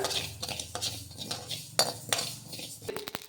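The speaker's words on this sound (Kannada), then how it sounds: "ನೋಡಿರಿ ಇದು ಚಟಪಟ ಅಂತ ಇದೆ" Mustard seeds dry roast in a pan for lemon pickle, giving a few sharp, scattered pops over soft scraping and clinking from a stirring spoon, all quiet and close.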